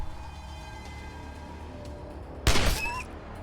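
A single loud burst of AK-47 fire in the turn-based video game Wasteland 2 lands about two-thirds of the way in, sharp and short, over a low ambient game backdrop with a brief ringing tail.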